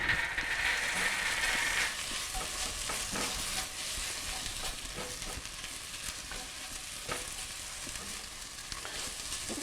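Garlic and ginger paste is stirred into browned onions in a pan for chicken masala, giving a steady close sizzle with repeated scraping and clacking strokes of a spoon against the pan, moderately loud and unbroken by speech.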